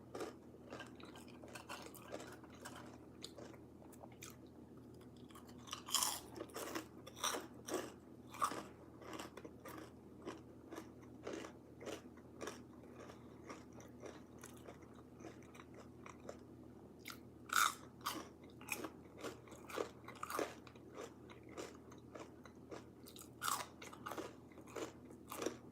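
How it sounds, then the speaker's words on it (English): Crunchy bites and chewing of a breakfast of crispy tater tots and bacon, close up and repeated steadily in irregular bursts over faint background hum, with no talking. "Can y'all hear the crisp, like the crunching?"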